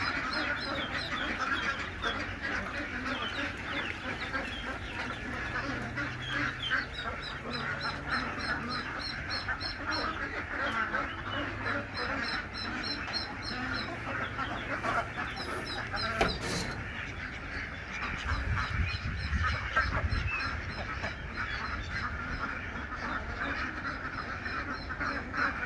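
Ducks and geese at a poultry pen kept with pigeons and chickens, a steady mix of quacking and occasional honks running through the whole stretch, fairly close and busy with no voices.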